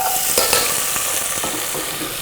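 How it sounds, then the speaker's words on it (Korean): Lotus root and burdock stir-fried in oil for chicken itameni, a steady close sizzle with repeated scraping stirs of the pan throughout. "연근과 우엉을 넣고 볶아줍니다"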